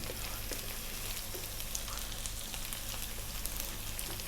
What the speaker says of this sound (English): Now let's add the cumin seeds.